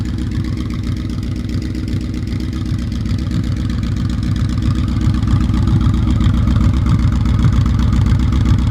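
A Yamaha Royal Star Venture motorcycle fitted with Harley mufflers idles steadily from just behind the bike, a low, even pulsing rumble that grows slightly louder toward the end.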